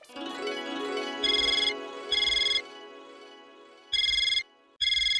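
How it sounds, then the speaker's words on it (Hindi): A mobile phone rings on an outgoing call: a tone sounds first, then four short bursts of electronic ringing come in pairs, loud and close, with no talk. "चलो मैं अपने फोन से लगाता हूँ।"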